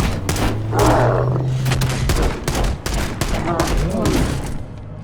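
Gunfire in Halo: Campaign Evolved crackles in dense, loud volleys that repeat almost continuously amid booming in-game sound effects.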